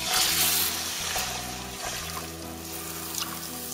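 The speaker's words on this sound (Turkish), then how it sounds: "soğuk sütü ekleyelim." Cold milk hits a sizzling flour roux in a pan with salt, making a steady close hissing, bubbling wash of liquid that carries on evenly throughout.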